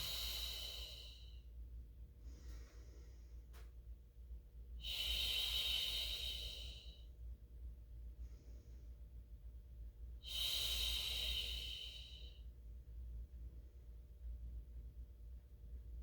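Breathing during a Pilates mat class: three long, airy breaths sound close to the microphone, spaced several seconds apart with quiet room tone between them.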